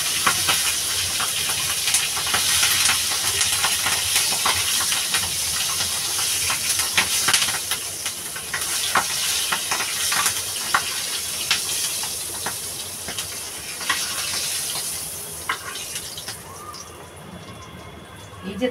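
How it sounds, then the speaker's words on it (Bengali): Green chillies fry in hot oil for a shingi fish curry with plantain and potato, giving a loud, close, continuous sizzling hiss with crackling spits that thins slightly near the end. "এর সঙ্গে এই কাঁচা লঙ্কাটাও ভেজে তুলে নেব।"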